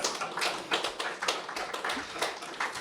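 Classroom audience clapping together, a dense run of overlapping hand claps at a steady even level, fairly close and filling the whole stretch.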